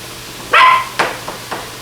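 A small dog nearby lets out one loud high yappy bark, followed by three quicker, fainter yips trailing off, with no talking.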